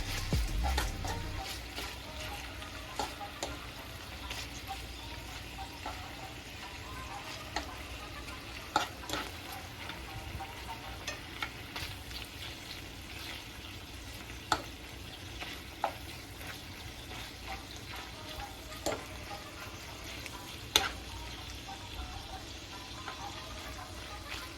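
Tostones frying in oil in a covered pan, a soft steady sizzle with scattered pops and light clicks, fairly quiet and continuous over a long stretch, no one speaking.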